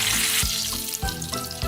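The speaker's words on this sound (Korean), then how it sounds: "부침가루 묻은 봄동을 앞뒤로 부침옷을 잘 입혀서 튀기듯 구워주면 끝입니다." Battered spring cabbage (bomdong) pancakes pan-frying in plenty of oil, a dense continuous sizzle with a few low thumps from the pan, no talking.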